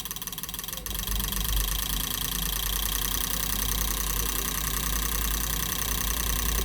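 Fuel injectors on an ECM tester bench for an Alto 800 fire in a rapid, even mechanical ticking that keeps pace steadily throughout, with a faint change near the start as the RPM is raised.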